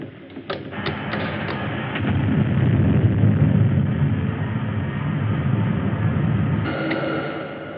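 Spaceship rockets fire for a landing in a 1954 science-fiction film: a few clanks at the start, then a loud, steady, rumbling roar that swells and holds for several seconds before a brighter surge near the end.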